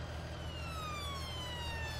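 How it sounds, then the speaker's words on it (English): A police siren in Farming Simulator 19 wails steadily over a low rumbling background, its falling tones sliding past as the vehicle goes by at moderate distance. "Police car going past"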